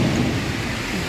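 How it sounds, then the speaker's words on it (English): Heavy rain pours down in Kesan, Turkey, with a low rumble of thunder in a close, loud, unbroken wash of sound. "And it starts raining out of nowhere, like it wasn't even predicted."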